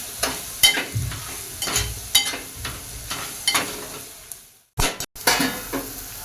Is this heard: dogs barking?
no